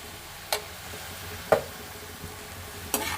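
Eggplant and onion pieces fry in a pan with a low steady sizzle, broken by three sharp scrapes or clinks of a spoon stirring them, with no talk.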